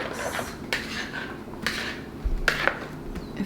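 Ingredients being mixed in a bowl make soft scraping and a few sharp clinks of a utensil against the dish. The sounds are close but fairly quiet and come in irregular bursts.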